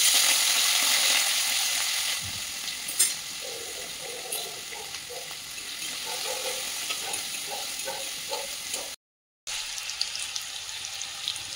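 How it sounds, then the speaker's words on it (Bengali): Potatoes frying in a pan with panch phoron spices, a soft steady sizzle with faint stirring scrapes and light clatter, close and fairly quiet, with a brief dropout partway through. "আলুগুলো ফ্রাই করবো"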